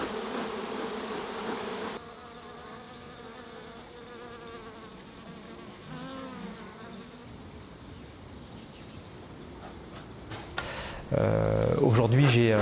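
Honey bees buzzing around beehives at an apiary, a faint continuous drone under someone speaking French, with a louder burst near the end.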